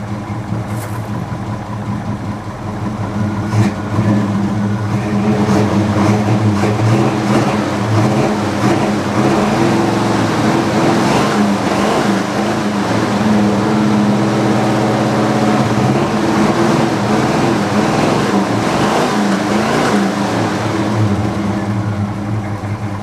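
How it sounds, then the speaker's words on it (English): A truck engine idling steadily and loudly after sitting all winter, a constant low rumble for a long stretch with slight rises in revs and no voices. "Love the sound of this truck"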